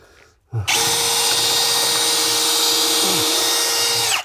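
A power drill whirs steadily for several seconds while hinges are fitted, loud and close, starting abruptly and cutting off at the end.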